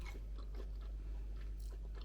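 Fries topped with chili mayo being chewed up close in Copenhagen: soft, quiet crunching bites repeating in an irregular rhythm, with no speech.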